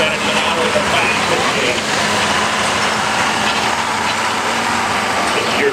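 John Deere 4020 tractor at a 2016 tractor pull in Holden, Missouri, its engine roaring in a steady, dense drone that stays loud and constant, with a faint announcer voice mixed in.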